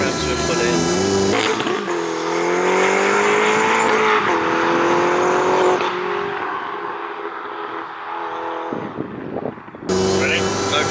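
A turbocharged VW Polo 6N2 is driven hard through third gear at high RPM, its loud engine pitch climbing steadily with a brief gearshift break near the end, and a voice talking underneath.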